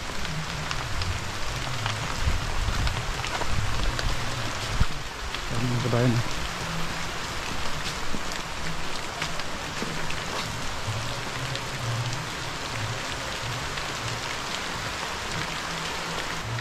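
Steady, moderate rain falls, easing slightly, as a constant patter that continues throughout while a person speaks briefly over it.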